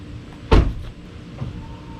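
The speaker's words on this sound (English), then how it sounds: "One of the things you're going to notice with this truck is it has retractable steps." Retractable running steps on a 2020 Ram 1500 Limited diesel pickup move with one sharp mechanical thunk, followed by a fainter clunk about a second later.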